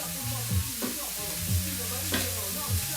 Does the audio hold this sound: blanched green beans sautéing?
yes